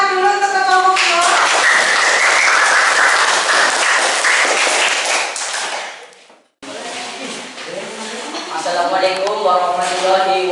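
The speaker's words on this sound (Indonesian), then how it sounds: "Beri tepuk tangan dulu untuk kelompok dua." Lively applause from a class audience for group two during a school teaching performance session at SMPN 2 Gandrungmangu, loud dense clapping that cuts off briefly, then gives way to voices speaking.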